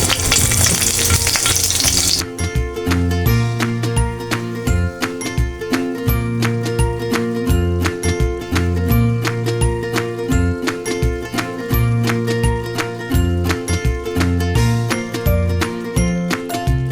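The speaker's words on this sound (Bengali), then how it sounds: "আমি এখন ডিমগুলো ভেজে নেব।" Boiled eggs frying in a pan for an egg and eggplant curry, a steady close sizzle running throughout with rhythmic stirring and light clinks of a utensil against the pan, no talking.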